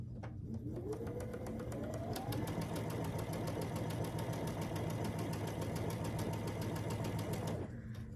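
A sewing machine stitches quilt block pieces together with a quarter-inch seam, starting with a rising whine and then running at a steady, fast mechanical rhythm for several seconds before stopping.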